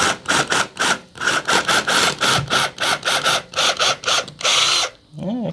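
A regular power drill, not a hammer drill, drills into masonry in short repeated bursts, roughly a dozen pulses with brief pauses between, close and loud, ending with a longer run and a whine.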